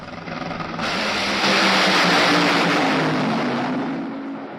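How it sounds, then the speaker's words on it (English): A Honda Civic engine bursts into a loud, sustained roar that holds steady and then slowly eases off, with no one talking over it. "Was that Santino's Honda Civic just roaring out there?"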